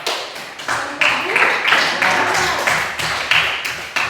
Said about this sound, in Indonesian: beri aplaus buat